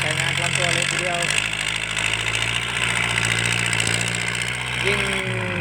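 A Kubota L50 tractor without a turbo idles with a loud, booming exhaust, a steady close-up rumble with a slight knock, while someone talks over it.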